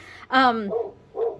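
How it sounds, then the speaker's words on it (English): A female dog barks once, loud and close, followed by two shorter softer yelps indoors, with no talking over it. "Sorry about the dog."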